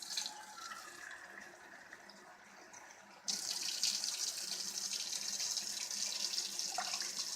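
Water from a tap splashes into a pot for simple syrup while making Turkish candied figs, a steady, close rushing stream that starts abruptly and runs continuously after a quieter kitchen lead-in.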